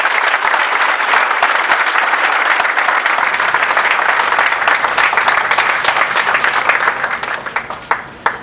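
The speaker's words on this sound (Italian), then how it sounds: "Un applauso a questa splendida lista" Sustained loud applause from a crowd in a town square greeting a slate of municipal election candidates in Montecorvino Rovella, dense clapping throughout that thins slightly near the end.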